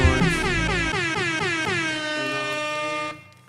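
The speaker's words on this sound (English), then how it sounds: "Some air horns on that end." A loud air horn sound effect blasts in one long sustained, slightly wavering tone that drops and cuts off after about three seconds.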